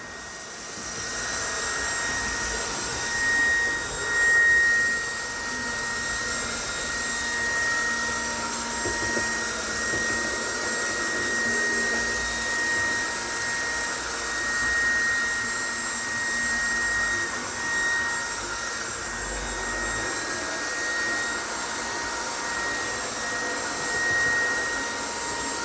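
A Lux-Modellbau vacuum cleaning wagon runs on a model railway with a steady, close whirring suction drone that swells slightly now and then, holding for the whole stretch with no talk.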